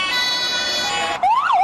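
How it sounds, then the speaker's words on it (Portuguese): An ambulance siren wails loud and close, a steady high tone that switches abruptly into a rising and falling sweep near the end. "ambulâncias, sirenes de ambulâncias em todos os países"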